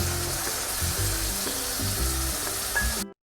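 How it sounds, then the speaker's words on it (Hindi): Masala fries for beef koftas, a loud close continuous sizzle with occasional stirring, cutting off abruptly at the end; no talking. "अब ये हमने मसाला इसमें डाल के इसको भूनेंगे"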